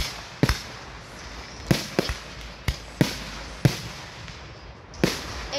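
Fireworks burst one after another, about eight sharp, loud bangs at irregular intervals, each followed by a crackling, fizzing tail over a low background hiss.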